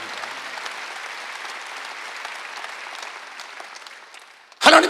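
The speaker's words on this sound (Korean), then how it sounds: "박수 한번 하세요." A church congregation at a Wednesday service claps in a sustained round of applause that slowly fades, ending in a sudden loud burst of sound at the very end.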